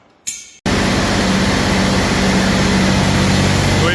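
A John Deere 4010 tractor engine roars to life after a short sputtering start, then runs steadily and loudly up close with a deep, even rumble and no talk.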